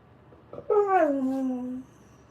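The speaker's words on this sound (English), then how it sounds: "Can you hear the dog?" A dog gives a single drawn-out whimper, a high whine sliding downward and fading after about a second, close and clear against quiet.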